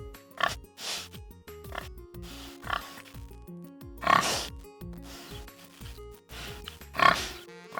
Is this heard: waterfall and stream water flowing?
no